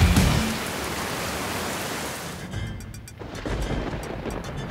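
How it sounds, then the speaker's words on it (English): Steady rain falls in a broad, constant hiss that thins briefly partway through before swelling again, with no voices over it. "I hate rainy season."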